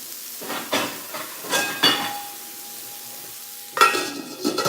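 Cauliflower sizzles and roasts in a pan, with soft hissing and several bursts of stirring and scraping, then a louder sizzle near the end.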